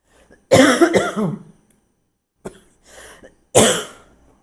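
Three separate coughs sound close up: a harsh double cough first, then a softer one, then a final sharp cough, with quiet pauses between.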